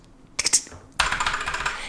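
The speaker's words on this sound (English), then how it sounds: "that is my favorite keyboard ever because it's got the silver switches in it, which is a little bit quieter" Keys on a gaming keyboard with silver switches clatter close up in two quick bursts, a short cluster of clicks and then a denser rapid run of keystrokes.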